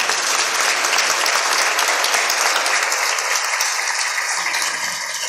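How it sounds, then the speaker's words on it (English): Sustained audience applause for a patient panel at a morning discussion session, a thick, even roar of many hands clapping close and loud, easing slightly toward the end. "please join me in a round of applause for the whole panel for being so brave and sharing their stories"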